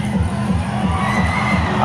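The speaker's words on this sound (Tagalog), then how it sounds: "Kapag Ginebra po ang makashoot, talagang sobrang hiyawan po." A large indoor basketball arena crowd at a TNT vs Ginebra Game 6 finals, cheering and shouting together, a loud roaring wall of voices with rhythmic pulses.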